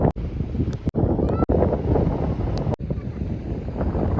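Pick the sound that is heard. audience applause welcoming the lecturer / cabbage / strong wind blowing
strong wind blowing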